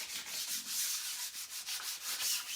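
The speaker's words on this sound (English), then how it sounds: "you want to make sure this is burnished. We call this burnishing." Vinyl being burnished onto an 18-inch round door hanger, a soft, repeated rubbing and scraping in quick back-and-forth strokes, close and fairly quiet with no voices.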